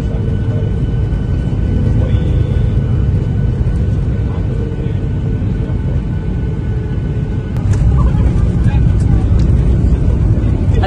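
Airliner landing, a loud continuous low engine and wind rumble inside the cabin, with a brief thump and rattle partway through as the plane touches down.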